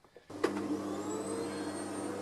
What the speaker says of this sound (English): Vacuum cleaner doesn't sound particularly happy at all this